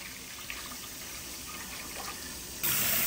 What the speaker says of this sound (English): Pour the first bit of hot water.